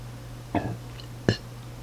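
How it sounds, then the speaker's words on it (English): A person lets out two short throaty burps about three-quarters of a second apart, close to the microphone, in an otherwise quiet room. "Hold on, I think I'm gonna burp."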